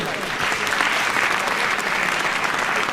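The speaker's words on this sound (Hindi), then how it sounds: "एक बार जोरदार तालियां बजाइए" Loud, steady applause from a crowd, dense clapping that fills the whole stretch without pause.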